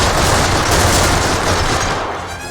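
Dense, loud World War II gunfire in the shooter Medal of Honor: Rising Sun, a sustained wall of overlapping shots and blasts that carries on for the whole stretch and eases off slightly toward the end.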